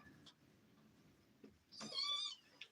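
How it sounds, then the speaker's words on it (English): Two young kittens playing indoors, with faint scuffling and a short, clear, high meow near the end, fairly quiet and close by. "What are you doing, kitties? They're playing. We got two baby kitties."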